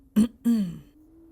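Someone clears their throat twice in quick succession, close and distinct, with a low hum in the background.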